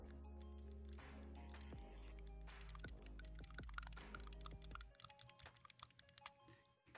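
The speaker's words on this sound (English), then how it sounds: "That's just me wiggling the actual node." Gain knob on a TONOR ORCA001 microphone being wiggled, giving rapid close scratchy clicks and rubbing in irregular bursts over a steady low hum, tapering off near the end.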